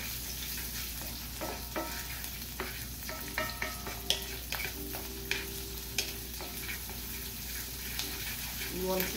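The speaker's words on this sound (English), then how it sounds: "I'm going to add my onions and peppers" Onions and serrano peppers stir-fry in a pan for spicy Thai basil fried rice, sizzling steadily while a utensil scrapes and clatters against the pan in irregular strokes close by.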